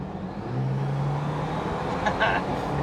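A Jeep Wrangler fitted with a throttle enhancer revs under a brief throttle input, its engine note rising and holding as a steady low drone at moderate level, with a few sharper clicks near the end.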